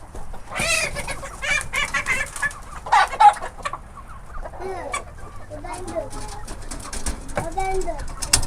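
Several Porcelain Barbu d'Uccle bantam roosters and hens call and cluck close by, overlapping in busy bursts while people talk now and then in the background.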